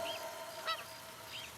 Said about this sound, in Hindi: आवाज सुनो, चिड़ियों की आवाज